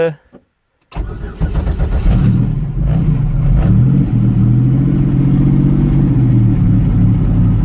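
A car engine cranks and catches after a short silence, then settles into a steady, loud idle with slight revving swells, close by and alone.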